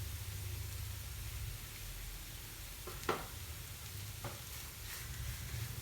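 A spoon stirs a potato and masala mixture with breadcrumbs in a pan, producing faint, soft scraping strokes over a quiet low sizzle, with a couple of sharper scrapes partway through.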